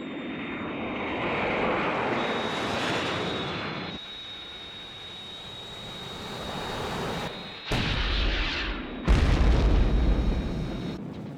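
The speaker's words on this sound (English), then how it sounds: "I'm under attack from 3 unidentified aircraft and taking evasive action" Aircraft engines roar overhead in a sustained drone, a high whine running across it, then heavy explosions burst out loud and booming toward the end as the attacking planes close in.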